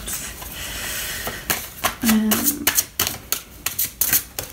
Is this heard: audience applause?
no